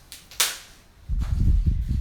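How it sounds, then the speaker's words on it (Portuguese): A pleomele plant stem is cut with two sharp snapping clicks early on, followed by low rustling handling sounds of the plant. "Como essa pleomelis ela está grande, então eu vou cortá-la"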